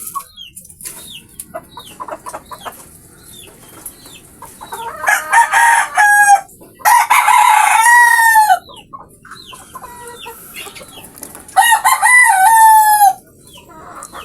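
A tall hybrid rooster crows loudly and close, three long crows separated by stretches of quiet with soft clucking and faint background bird calls.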